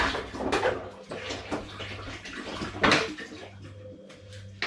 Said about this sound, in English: I'm going to add a further 5 litres of spring water